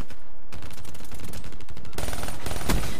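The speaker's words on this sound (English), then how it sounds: "They're shooting up there." Rapid automatic gunfire and scattered shots from a Call of Duty match on the Nuketown map, loud and dense throughout, with bursts growing heavier toward the end.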